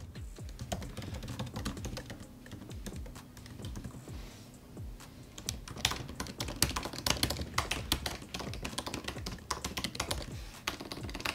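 Rapid, close clicking of typing on a 16-inch MacBook Pro keyboard, with bursts of keystrokes and brief pauses, growing busier toward the end.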